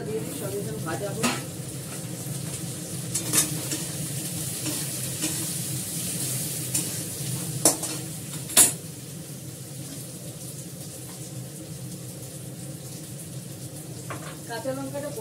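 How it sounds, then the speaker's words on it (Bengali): Potatoes frying in a pan of oil in a home kitchen, a steady close sizzle running throughout, with a few clinks and stirring scrapes of a utensil and some faint background noise. "আলুটা দিয়ে দিই, সঙ্গে সঙ্গে ভাজা হোক"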